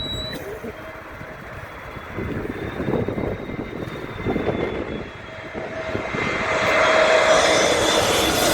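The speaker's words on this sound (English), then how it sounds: "It's an easy jet flight." An easyJet jet airliner passes overhead at about 3,000 feet near a runway in stormy weather, a broad roar that builds steadily and peaks near the end, with a rising whine and voices talking over it.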